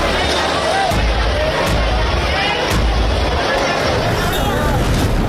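Dense, steady hubbub of a packed street market in Bhopal, many indistinct voices and movement blending into a constant loud roar, with a few sharp knocks rising out of the din.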